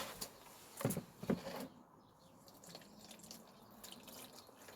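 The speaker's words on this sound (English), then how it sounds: "we add some water." Water poured into a container holding a chunk of potting-mix material, a few quiet close splashes and trickles followed by faint dripping.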